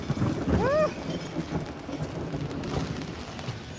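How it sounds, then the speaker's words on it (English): Steady rain hiss from a thunderstorm fills the scene, with a low rumble of thunder near the start and a brief high chirp, all fairly even in level. "now they're in this moment of the thunderstorm, Gizelle coming in"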